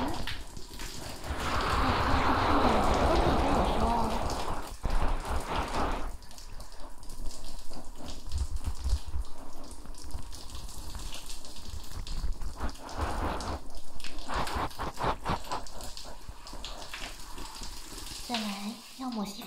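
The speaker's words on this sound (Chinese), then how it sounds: "要冲水喽" Water is poured over hair to rinse it during a hair wash in a bathhouse roleplay, a close, steady splashing pour lasting a few seconds and followed by softer wet trickling and handling sounds.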